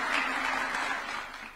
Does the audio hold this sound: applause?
yes